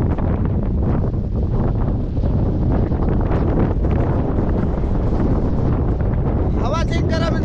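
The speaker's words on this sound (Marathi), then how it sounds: "हवा चेक करा मित्रांनो, एवढी भयानक हवा येत आहे इथं" Strong gusting wind buffeting the microphone on a foggy Lonavala hilltop in monsoon, a loud continuous roar filling the whole clip, with a voice briefly audible near the end.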